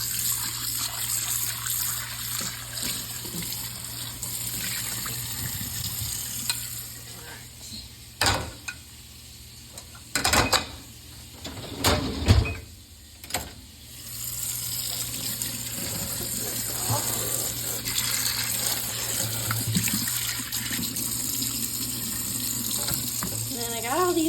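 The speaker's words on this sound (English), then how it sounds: "wash these dishes." Tap water runs steadily into a kitchen sink while dishes are washed, a continuous close gush with a few louder splashes and clatters partway through and a low hum underneath, no talk.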